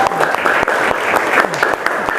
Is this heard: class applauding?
yes